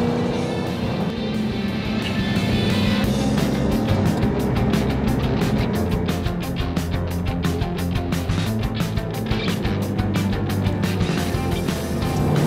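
A 2015 Jaguar F-Type R Coupé, rear-wheel drive, is driven hard on a racetrack, its engine roaring loudly and continuously with rapid, rattling exhaust pulses throughout.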